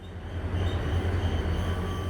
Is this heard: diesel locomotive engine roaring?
yes